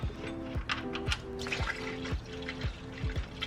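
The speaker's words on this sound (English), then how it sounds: "dump all this water out" Water being dumped out of a car engine on an RX7, a steady pouring and splashing stream with a few sloshing surges, close by and alone.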